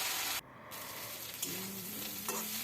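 Onion stalks (piyaj kali), lightly parboiled, fry in a pan as a steady broadband sizzle with a brief dip and occasional stirring scrapes; close and continuous, no talking.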